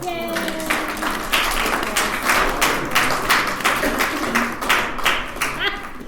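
An audience claps loudly to thank volunteers in a class, a dense burst of close, sharp hand claps that swells and pulses unevenly before tapering off.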